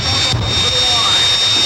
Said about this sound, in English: Doug built the Green Mamba and continued jet car racing